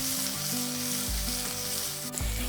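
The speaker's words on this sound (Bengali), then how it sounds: "তেল গরম হয়ে যাওয়ার পরে দিয়ে দিচ্ছি পেঁয়াজ কুচি, দিচ্ছি আদা কুচি, রসুন কুচি আর কাঁচা লঙ্কা" Chopped onion, ginger, garlic and green chilli hit hot oil in a pan, raising a loud, steady sizzle with a fresh burst of frying partway through; no voices.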